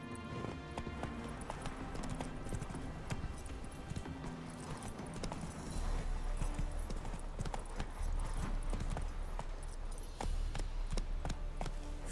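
A horse gallops in The Witcher 3 with a steady, rhythmic clip-clop of hooves that grows heavier partway through, over a bed of game ambience and music.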